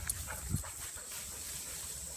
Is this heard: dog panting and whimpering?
yes